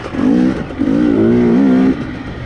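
A KTM 250 two-stroke dirt bike lugs uphill in third gear, its engine buzzing low and steady with slight wavering swells, loud and close with no talking.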